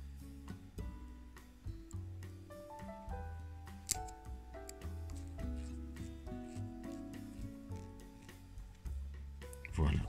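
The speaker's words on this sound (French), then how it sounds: "je le visse. En fait, je prévisse directement." A small screw is driven into the hood hinge of an Altaya KITT K2000 model car, producing soft, close rasping and rubbing with faint ticks, while a person talks quietly throughout.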